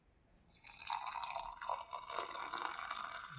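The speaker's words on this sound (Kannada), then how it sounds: "ಈಗ ಈ ಹಾಲನ್ನು ಇದಕ್ಕೆ ನೋಡಿ ಈ ಥರ ಹಾಕೋದು" Milk poured into a cup of freshly brewed Bru coffee gives a soft, close liquid trickle and splashing that rises after a brief pause and continues steadily, with no talking.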